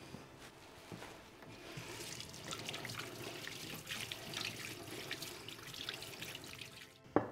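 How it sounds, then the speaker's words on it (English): Tap water runs steadily into a kitchen sink as hands are rinsed under it, a soft continuous splashing with a small clunk at the end. "Just give my hands a quick rinse off."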